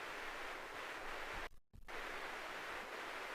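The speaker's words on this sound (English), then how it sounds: "I don't want it with that much hiss." Constant broadband tape hiss from a cassette simulator on an SP-404MKII sampler, soft and even, cutting out briefly to near silence in the middle before resuming.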